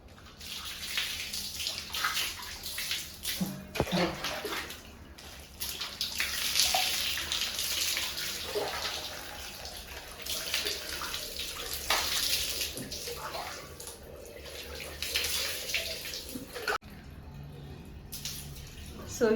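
A 2.7-year-old toddler splashes in bath water at home, with irregular sloshes and drips that rise and fall across the whole stretch, close by, alongside intermittent adult talk.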